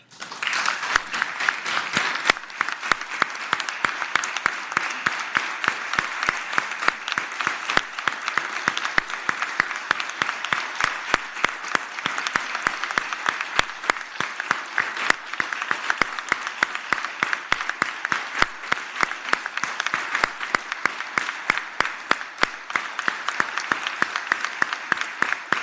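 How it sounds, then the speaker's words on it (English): A crowd in the Virginia Senate chamber applauds steadily for nearly half a minute, dense continuous clapping with no talk over it. "Let's give them a round of applause."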